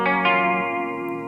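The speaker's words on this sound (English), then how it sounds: "real nice chorus effect on it" Electric guitar played through an Echo Boy chorus and delay effect, two quickly struck chords shimmering and ringing on, loud and close, fading gently without any voices.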